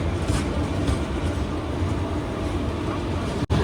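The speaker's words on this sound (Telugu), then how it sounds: "బెంగళూరు నుంచి టాటా నగర్ వెళ్ళే ట్రైన్ ఇది" Express train running from Bengaluru to Tatanagar, a steady loud rumble of rolling carriages heard continuously from close by, broken by one brief dropout near the end.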